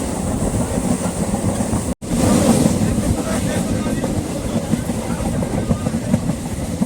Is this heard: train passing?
yes